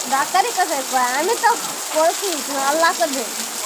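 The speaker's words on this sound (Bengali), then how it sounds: "আবারও তো বৃষ্টি প্রচুর আসা শুরু করে গেল" Heavy rain hisses steadily on surfaces throughout, loud and constant, while a person talks over it.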